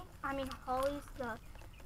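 A few short, throaty clucks from a chicken, close by, with small pauses between calls and faint background noise.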